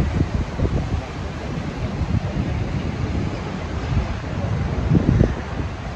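Strong wind sweeps over the microphone at a hilltop pagoda, a loud, constant roaring rush with gusts and no voices.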